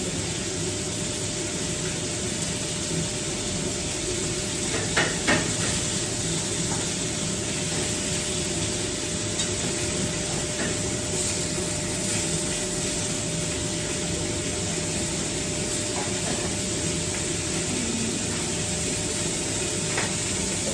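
A half piece of fish frying in hot oil makes a continuous, even sizzling hiss that stays steady and fairly loud throughout, with a few faint clicks and no speech.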